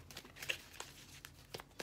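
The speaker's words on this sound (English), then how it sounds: "I'm going to shuffle and I'm pulling 12 cards" Oracle cards being shuffled by hand, faint soft rustles and light crinkling taps in an irregular rhythm, close but quiet.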